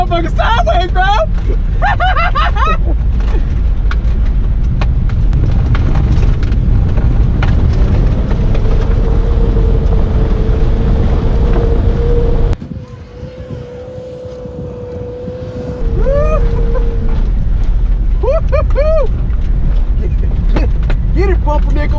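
A 1960 Cadillac drifting sideways on a dirt track, its engine roaring and droning steadily with a brief dip in the middle, while a crowd cheers and shouts close by.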